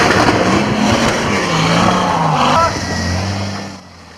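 A highly modified 4WD with a chopped custom tray claws up a steep off-road hill climb, its engine revving hard and bouncing off the rev limiter, loud and sustained before easing and fading away.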